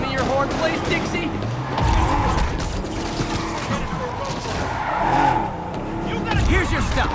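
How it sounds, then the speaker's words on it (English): Cars skidding in a high-speed chase in a Spider-Man video game, loud repeated tire squeals and sliding engines with swelling screeches under ongoing background talk. "Yep, that's a high-speed car chase"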